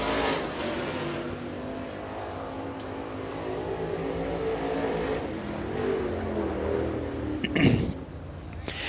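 A race car runs down the back straightaway at a speedway during qualifying, its engine a distant, steady roar beneath an announcer's voice, with a brief louder burst near the end.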